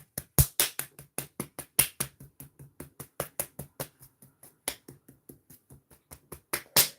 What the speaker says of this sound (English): So when you clap your hands, you clap them like this.